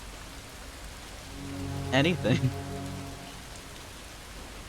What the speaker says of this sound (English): is anything more mesmerizing than the transformation brought by the rain?